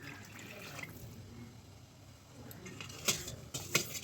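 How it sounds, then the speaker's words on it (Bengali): Water poured into a pot holding marinated mutton and masala for a thin Bengali mutton curry, a faint trickle and splash that grows into a few louder pours and clinks near the end. "এই পাত্রে আমি পরিমাণ মতো জল দেবো"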